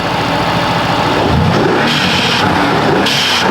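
A Mercedes-AMG GT S engine fitted with a carbon air intake and blow-off valves runs loud and close, a steady idle rumble with a couple of brief revs rising and falling.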